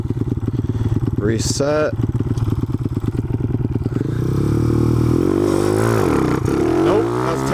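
A Honda CT70 minibike accelerating hard on a quarter-mile run: loud, close, rapid engine putter that climbs in pitch, then shifts into a smoother, higher drone, with a brief spoken word early on.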